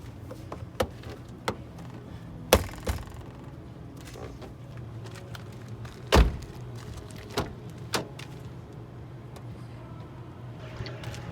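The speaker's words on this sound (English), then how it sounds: "Last step is put back the triangular panel at the top of the door panel." Plastic trim on a Nissan Juke car door interior gets refitted, giving a few sharp clicks and snaps spread across quiet moments with light handling noise and no talking.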